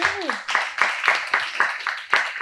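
A small group claps in rhythm on a podcast, evenly spaced claps about every quarter second, with a short voice sound at the start.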